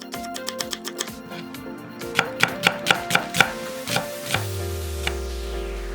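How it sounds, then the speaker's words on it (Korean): A knife slices one onion coarsely on a cutting board, giving a quick series of crisp, close taps in bursts, the later strokes louder and more spaced, with no talking. "양파 1개는 굵게 채썰고"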